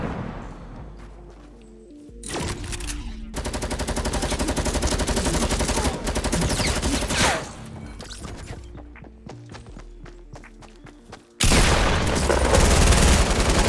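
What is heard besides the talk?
hunting rifle shot in Fortnite video game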